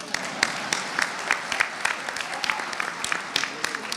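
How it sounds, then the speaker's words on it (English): An audience at a political event gives a crowd of listeners' applause, a dense patter of clapping with sharp individual claps standing out, steady for several seconds. "You can clap for that."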